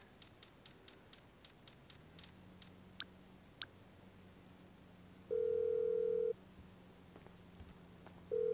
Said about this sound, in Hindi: जिमी को फ़ोन लगाता हूँ